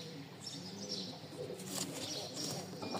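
Pigeons coo softly in a small loft of paired birds, with low repeated coos and faint chirps over a quiet, steady background hiss.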